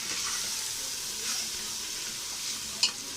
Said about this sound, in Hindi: कीमा फ्राई हो रहा है, ऐसे बर्फ़ गल चुकी है।